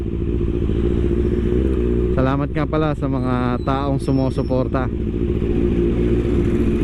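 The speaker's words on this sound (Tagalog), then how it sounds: "ZX6R dream bike ko talaga yan. So andito na, sinasakyan na natin." Kawasaki ZX6R sport motorcycle being ridden, a loud continuous engine drone throughout with a rising rev in the middle, while someone talks over it.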